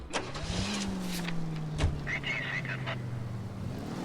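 A car in L.A. Noire starts up and pulls away, the engine settling into a steady drone while a few short mechanical clicks and knocks sound over it.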